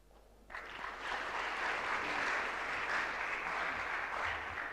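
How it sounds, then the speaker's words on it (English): Applause erupts after a brief quiet start, a steady, moderately distant wash of many hands clapping at a public speaking competition grand finale as a woman returns to her seat. "a round of applause for her as she takes her seat"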